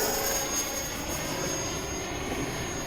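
An E-flite 70mm Viper RC jet with an electric ducted fan flies at full speed, a loud, steady high-pitched whine and roar with no pauses.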